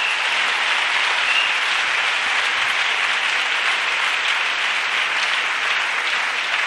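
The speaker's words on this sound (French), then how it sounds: "Even if it's alone, you should clap aloud." A large audience applauding in a continuous, dense wash of hand claps that stays loud and steady from start to finish.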